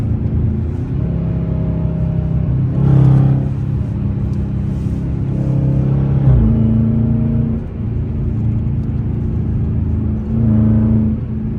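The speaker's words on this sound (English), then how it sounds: "There's a downshift." A 5.7 HEMI engine pulling on the road in an icy drive, a loud steady rumble whose pitch rises and then drops with each downshift, repeated several times over the stretch, heard from inside with no talking.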